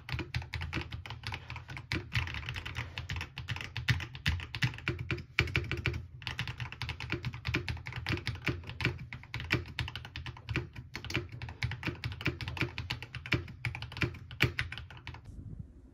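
Steady rapid typing on a cheap modded mechanical keyboard, dense clacky keystrokes continuing nonstop at close range, with a brief pause near the end.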